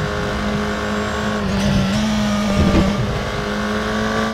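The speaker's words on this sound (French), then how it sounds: "vous avez entendu la boss qui a fait ripper. Frotter mon pneu." Race car in the RaceRoom racing game running at steady engine drone, with a brief tyre scrub and rumble as it crosses a bump midway; loud and continuous, no talking.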